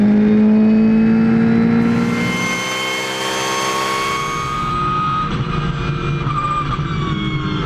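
GT race cars, including a Ferrari 488 GT3, accelerating hard at a rolling start at the Anneau du Rhin circuit. Loud, close engines rise in pitch and overlap as they pass, then settle into a sustained roar.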